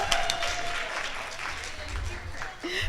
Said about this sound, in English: Let's give a rounding applause for Dr. Deborah Ortloff, the one and only